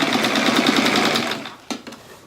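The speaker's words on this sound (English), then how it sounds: "So we're going to sew it just the way we just did on the last one." A sewing machine stitches pinned quilt pieces together, running loud and close with a fast, even mechanical rhythm for about a second and a half, then stops, followed by a couple of small clicks.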